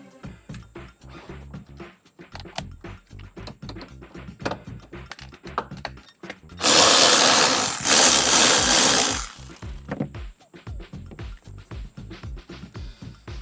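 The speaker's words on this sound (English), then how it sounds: "That's the T50 Torx bit." Power driver fitted with a T50 Torx bit removing roof rack fittings from a 4x4, a burst of loud whirring lasting about three seconds amid rapid clicking and ratcheting sounds.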